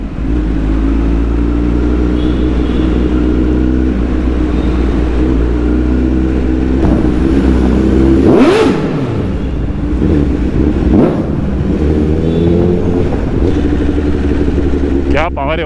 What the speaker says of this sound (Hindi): फर्स्ट गियर पे इतनी एकदम खतरनाक वाली फेंकती है ना गाड़ी